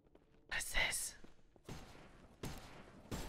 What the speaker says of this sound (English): This asparagus gun is amazing